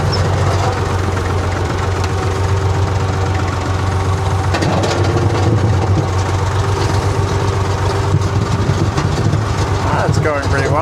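Jaguar XJ6 driven in second gear through snow, its engine giving a loud, steady low rumble with a constant throb throughout, while a person talks over it.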